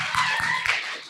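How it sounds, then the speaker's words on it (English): Brief burst of audience clapping at a Poetry Out Loud event, a few sharp claps standing out above a dense spread of hands, lasting about a second with no talk. "Clap it up for Brandon, clap it up."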